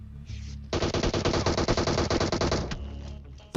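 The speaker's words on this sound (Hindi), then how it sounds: "किसी ने मेरे ऊपर डीपी से फायर करा" A DP machine gun fires in a mobile battle royale game, a long close burst of rapid evenly spaced shots lasting about two seconds, with faint earlier rattles before it.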